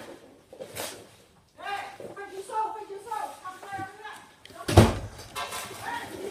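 A room door closed during a Pokémon card tin opening, giving one sharp, loud thud near the end, with people talking before and after it.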